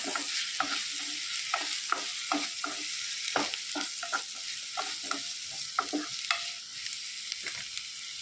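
Cut potatoes are stirred into frying masala for egg mappas, with a spoon clacking and scraping in frequent close strokes over a soft background sizzle, no talking.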